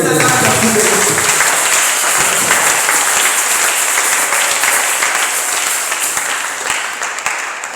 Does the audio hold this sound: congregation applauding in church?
yes